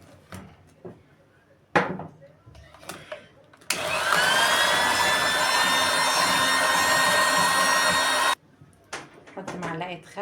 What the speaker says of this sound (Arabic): ونكمل خفق